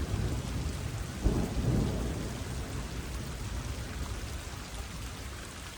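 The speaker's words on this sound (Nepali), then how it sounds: "बर्खा लायो असिना र झरी" A thunderstorm breaks with a rumble of thunder early on, then steady heavy rain with hail pours down across the whole stretch, a dense continuous hiss with no voices.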